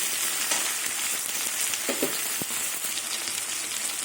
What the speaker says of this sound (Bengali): এবার টমেটো দিয়ে কিছুক্ষণ আবার ভাজা ভাজা করে নেব।